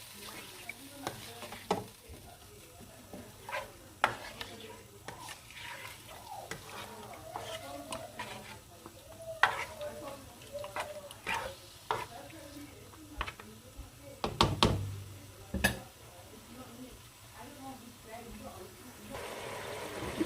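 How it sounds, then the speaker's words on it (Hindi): Chicken for a Karachi street-style Cholistani karahi fries in a pan with a steady sizzle, broken by repeated clicking stirs and sharper clanks of a utensil against the metal. "अभी 3 मिनट हो गए मुझे फ्राई करते हुए।"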